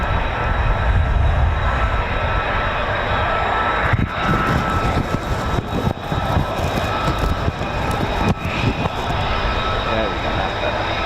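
A U.S. Air Force F-35A fighter jet at RAF Lakenheath roars with a broad, sustained engine rumble that fills the scene and stays loud and steady throughout, with a few brief dips and crackles.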